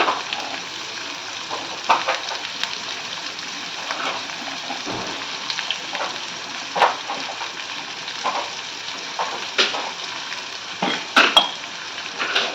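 Two medium onions fry in a pan for a spicy potato curry. A steady, soft sizzle fills the clip, with occasional scraping and clinking from stirring.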